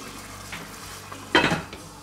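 Lid set onto a pot of lamb sauté with sorrel, one short close metallic clatter over a faint simmer, with no talk.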